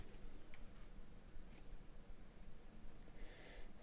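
Scissors snipping through felt to cut out eye shapes, a quiet close series of soft crunching cuts with brief pauses between strokes.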